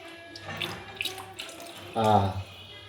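Water splashes and runs into a pan of brinjal curry in a brief burst near the end, following quieter kitchen clatter.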